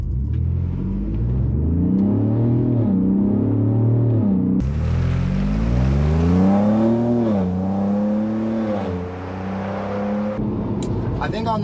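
A 2021 Ford Bronco with a Magnaflow exhaust accelerates at part throttle, its engine note rising and dropping through gear shifts in a loud, close, raspy drone, with a voice talking over it.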